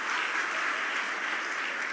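A church congregation at an evening Sunday prayer service claps in a dense, even burst of applause, steady and fairly loud throughout with no talking.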